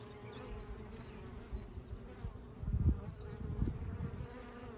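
Honeybees buzzing around a hive outdoors in spring, a dense continuous hum of many bees close by, swelling louder as individual bees pass near, with faint birdsong in the background.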